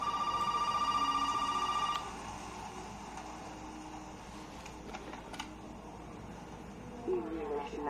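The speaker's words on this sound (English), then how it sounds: "Sounds like the phone's working again." A telephone rings in the Resident Evil video game: a loud electronic ring for about two seconds that then stops, leaving quiet in-game ambience with faint scattered noises.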